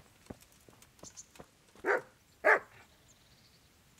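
A dog in the medieval game Kingdom Come: Deliverance lets out two close, loud barks about half a second apart, after faint scattered clicks and ticks.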